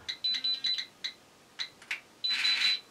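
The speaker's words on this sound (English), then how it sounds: "it will basically do a radiation type alarm thing of the phone, sending out notifications to tell me I'm being irradiated." Radiation alarm notification from an Atomtag Bluetooth Geiger counter and dosimeter, playing on a phone as a quick series of high electronic beeps followed by a longer buzzing tone, fairly faint and without talk.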